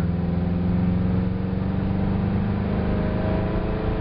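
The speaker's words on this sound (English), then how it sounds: "we're going to gradually give her gas and take it through the power range" A car engine with an automatic transmission pulls steadily through the power range in second gear, a continuous loud drone with a faint rising tone and no audible shift.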